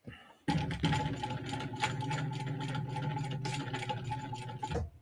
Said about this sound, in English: Just basting it down so that it doesn't come off when I'm trying to sew that